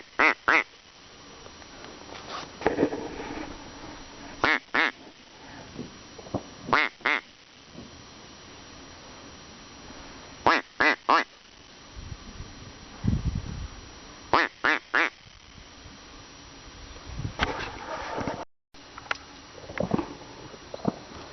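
Ducks quacking at a lake during a duck hunt, repeated short bursts of quacks in irregular clusters, fairly close and clear over a quiet background with faint patter.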